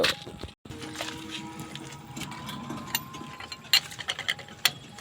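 Lug nuts on a car wheel being given their final tightening with a wrench: a run of sharp metallic ticks and clicks, some sparse and some in quick bursts, close by over a steady low background hum.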